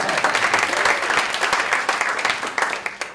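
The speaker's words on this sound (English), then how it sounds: "Oh, we can do better with applause, I'm sure." A crowd at a public relations presentation breaks into lively applause, close and fairly loud, with a few sharper individual claps standing out as it thins near the end.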